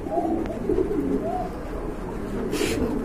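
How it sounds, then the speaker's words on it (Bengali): Pouter pigeons coo softly at a crowded pigeon market, low rolling calls close by over a steady murmur of background noise and a brief rustle. "এক জোড়া পোটার রয়েছে এখানে"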